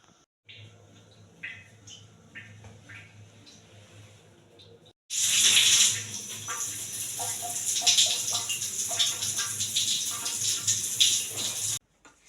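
Water runs for a bath in a student's home in Vietnam. After quieter room noise it starts abruptly midway as a steady, fairly close splashing rush lasting several seconds.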